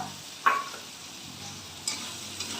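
Chopped green chillies and capsicum fry in a pan for pav bhaji under a soft, steady sizzle, with a couple of brief spatula taps and scrapes; close but fairly quiet, no talk.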